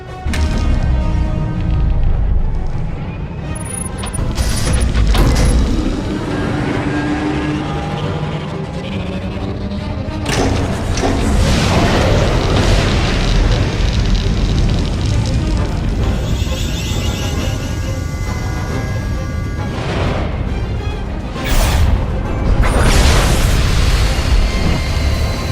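The Silencer superweapon firing on an enemy fleet in the SWTOR video game, a long stretch of heavy booms and sustained roaring blasts with sharp explosive peaks near 4, 10 and 21 seconds, loud and continuous.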